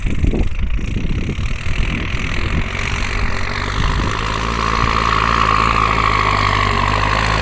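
A loud Kubota L5018 diesel farm tractor engine runs steadily nearby at about 1,800 to 2,000 rpm, a constant low rumble with a rising whine as the revs hold high.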